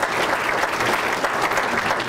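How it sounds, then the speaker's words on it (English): An audience at a community event claps steadily, a dense and even wash of applause throughout with no voices standing out. "So round of applause to them."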